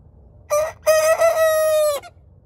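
A rooster crows near dawn: a brief opening note, a pause, then a long loud cock-a-doodle-doo that holds and falls, clear against quiet background with no talking.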